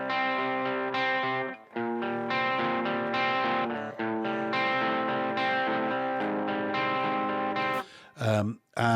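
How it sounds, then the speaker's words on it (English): A cross-picking electric guitar riff in C, thick with distortion and chorus effects, repeats its rolling pattern with brief breaks near the start and end. "So you've got this cross-picking riff."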